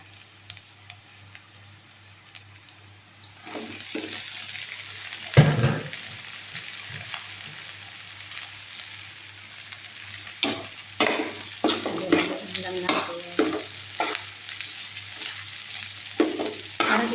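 Tofu tipped into a pan of frying onion and garlic lands with a sudden loud sizzle, then busy close stirring clicks and scrapes carry on over steady frying, with no voices.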